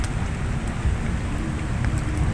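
Heavy rain pours steadily around a shelter beneath a tree near Sampalok on a fishing outing, a dense, unbroken wash of noise with no pauses and no voices.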